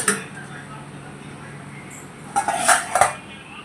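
Metal lid lifted off a pan of besan jhunka after steaming, a quiet hiss followed by a few sharp clinks and scrapes of metal near the end.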